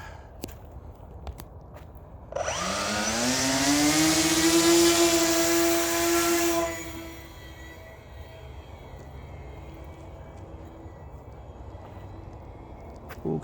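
Motors of a VTOL drone spin up during an early test flight, rising into a loud, whining harmonic drone from about 2.5 to 7 seconds, then cutting back to quiet. Nobody speaks.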